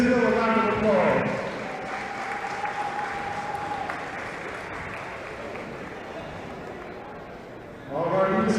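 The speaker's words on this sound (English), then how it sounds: "Let's give Mr. Dennis Hill a round of applause." An audience at the Philadelphia All-American Games applauds award recipient Dennis Hill, a fairly faint, steady wash of clapping that runs for several seconds, with a voice speaking at the start and again at the end.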